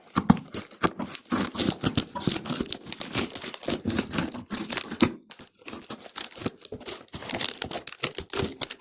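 A box of Korean cosmetics being opened and unpacked, with steady crinkling and rustling of packaging and cardboard in quick irregular bursts, close and fairly loud.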